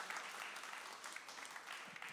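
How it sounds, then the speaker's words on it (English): A church congregation claps for Jesus, a dense, even patter of many hands heard faintly at a distance and sustained throughout. "Can we clap to Jesus?"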